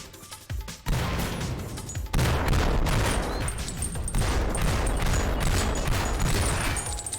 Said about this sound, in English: I really don't like shooting a bunch of dark Kevins this whole time